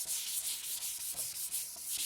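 Hand sanding of a wood finish with a sanding block, a steady rasping scrub in repeated back-and-forth strokes, close and fairly quiet, with no talking.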